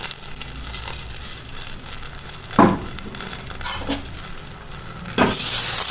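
Soaked rice is stirred and fried in caramelised sugar in a pan, giving a steady close sizzle with a few scraping stirs and spoon knocks.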